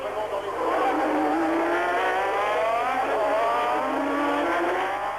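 A 1988 McLaren Formula 1 car at racing speed, its high-revving engine screaming loud and steady with rising and falling pitch as it is pushed to the limit through gear changes.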